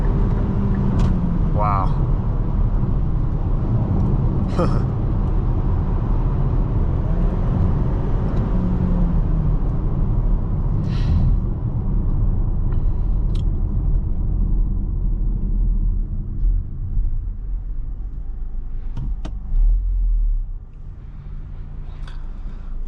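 A 2020 Kia Sportage SX picks up speed on the road, its engine and tyre rumble steady and strong underneath, easing off toward the end while a person speaks briefly over it.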